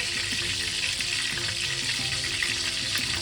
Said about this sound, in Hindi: कुकिंग ऑयल 1/2 कप डालेंगे। मैं इसके अंदर ऐड करूँगी राई दाना